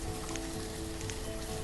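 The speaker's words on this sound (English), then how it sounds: "Dreary and rainy." Steady rain patters in the city-building game Banished, a soft continuous hiss of drops with a faint hum underneath, unbroken and evenly spread.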